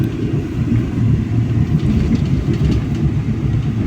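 KA Batavia economy passenger train running on the line near Manggarai and Gondangdia, a steady low rumble heard from inside the carriage, loud and continuous without voices.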